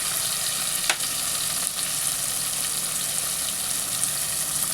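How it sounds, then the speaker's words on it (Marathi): Tomatoes sauté in a hot pan for egg biryani, giving a steady, close sizzle and frying hiss with faint stirring scrapes throughout and no talking. "आणि आता टोमॅटो पहिले परतून घेऊया."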